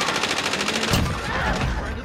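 Rapid automatic gunfire in the Warzone video game, a tight burst of quick, evenly spaced shots lasting about a second, then heavier echoing blasts trailing off.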